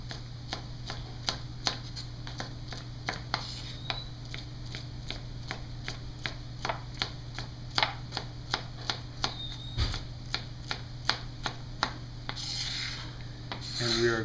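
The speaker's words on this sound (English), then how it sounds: "take a stalk of celery and dice it kind of, not real fine, but kind of small" A knife dices a stalk of celery on a cutting board, a steady run of quick, crisp chops at an even rhythm, close and fairly quiet with no talking.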